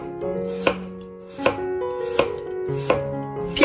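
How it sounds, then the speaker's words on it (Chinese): A knife slices a carrot into thin pieces on a cutting board, five sharp, evenly spaced chops ringing out clearly and close with a hollow wooden knock. "给它切成薄片"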